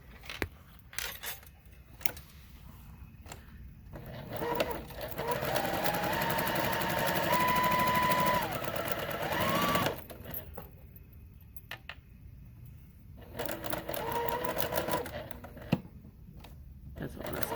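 Sewing machine running a quarter-inch quilt seam, a whirring stitch run in the middle with a pitched motor whine, framed by clicks and handling noises. Someone speaks softly in between.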